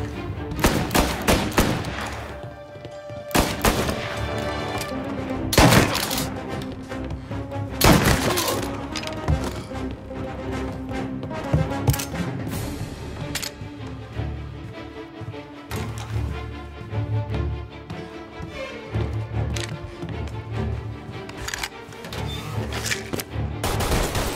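Rapid gunfire rattles through a shootout in the Mafia: Definitive Edition video game, dense machine-gun bursts and single shots cracking loudly with shattering glass, continuous across the whole stretch with only brief lulls.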